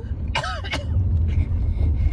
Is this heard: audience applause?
no